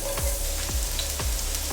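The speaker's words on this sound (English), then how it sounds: "I'm gonna cook my shallots." Chopped shallots sizzle in extra virgin olive oil in a sauté pan, a soft, steady frying hiss punctuated by regular low thumps as they are stirred, fairly quiet and close with no talk.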